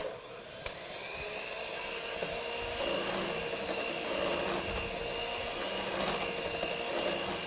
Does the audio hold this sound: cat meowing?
no